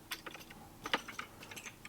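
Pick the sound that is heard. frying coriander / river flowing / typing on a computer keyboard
typing on a computer keyboard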